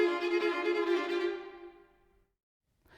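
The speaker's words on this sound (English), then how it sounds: "The second violin and the viola respond with this." Second violin and viola of a string quartet answer together in a Beethoven Opus 59 No. 3 passage, a sustained harmonized phrase that holds for about two seconds, then fades and stops into silence.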